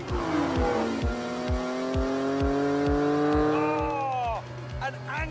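A Lamborghini Countach races a Ferrari Testarossa, its engine revving hard through rising pitch sweeps with loud rhythmic gear-like pulses and a brief drop near the end. Excited voices are heard over the roar.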